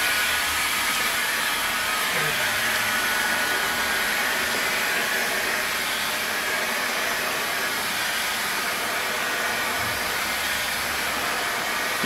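A heat gun blows a steady, loud hot-air roar while heating vinyl wrap film on a vehicle panel, holding constant for the whole stretch without speech.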